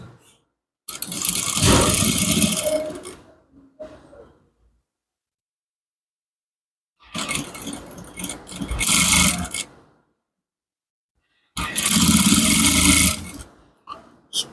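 A sewing machine stitching a men's palazzo trouser, running in three loud, close bursts of whirring stitching separated by quiet pauses.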